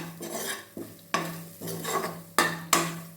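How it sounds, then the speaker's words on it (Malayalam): A spoon stirs grated coconut and turmeric in a pan for spinach thoran, giving close, repeated scrapes and knocks against the pan in a steady rhythm with a light sizzle beneath and no talking. "കുറച്ച് മതി നന്നായിട്ട് ഇളക്കി കൊടുക്കുക"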